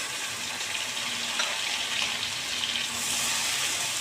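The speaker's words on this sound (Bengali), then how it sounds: "আলু ভাজা হয়ে গেছে, রসুন আর আদা" Garlic and ginger paste frying with diced potatoes in a pan for a Bengali egg curry, giving a steady, close sizzle that stays even throughout with no talking.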